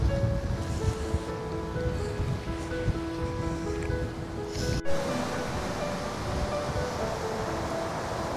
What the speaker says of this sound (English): A lot of breaking waves out there in the distance.